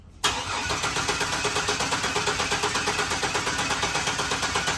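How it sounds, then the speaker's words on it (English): An old Chevy S10 pickup truck, sitting unused for years on a weak battery, cranks steadily after a brief silence, the starter churning in a fast even rhythm throughout without catching. "Let's see if it's going to crank."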